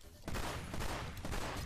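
Shotgun fire in a first-person shooter video game comes as a loud, rapid cluster of overlapping blasts, forming a dense burst of gunfire that lasts over a second.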